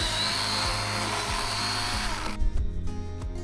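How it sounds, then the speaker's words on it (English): A small DeWalt electric chainsaw whines steadily as it cuts firewood, then the cut finishes and the motor falls to a lighter buzz with a few bumps. "Love my little DeWalt electric chainsaw here."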